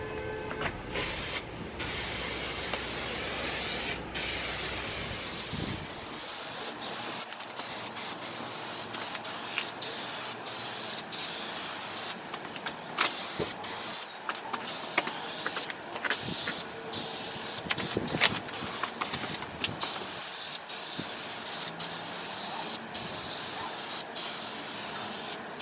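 Repeated hissing bursts of spray adhesive, close and steady, with short pauses between bursts and some rustling handling noise, during a Mini Cooper roof lining replacement.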